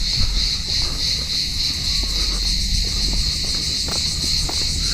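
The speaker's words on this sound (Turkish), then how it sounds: "Gey gey böceklerinin sesi." A steady, high-pitched drone of cicadas buzzes continuously throughout by a shore where a boat is docking, with faint low background rumble and scattered soft knocks beneath it.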